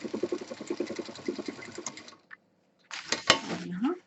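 A sewing machine stitching a fabric college bag, running in a fast close rhythmic chatter for about two seconds, then a brief pause before a second short burst of stitching.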